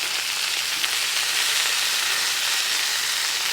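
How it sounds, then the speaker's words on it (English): Food sizzling and hissing on a hot wood-fired cooker at a high country hut, a steady broadband fry held at an even level throughout with no talk. "Bit of sizzle."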